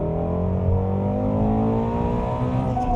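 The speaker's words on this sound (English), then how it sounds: "this car's gonna pass me at 60" A car overtakes at about 60 mph, heard from inside a Mustang GT350: a steady engine drone with gliding tones that rise and shift as it passes, loud and continuous for three seconds.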